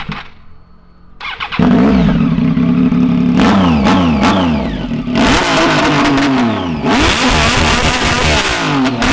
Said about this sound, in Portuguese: Já vamos ligar a Tiger pra vocês verem o barulho dela no diretão